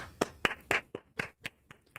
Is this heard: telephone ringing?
no